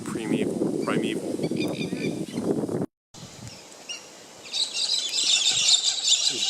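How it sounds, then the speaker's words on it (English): Birds on Kangaroo Island call loudly and excitedly, a dense stretch of honking, chirping calls close by, dropping out briefly before shrill high calls return. "These birds are just going ballistic."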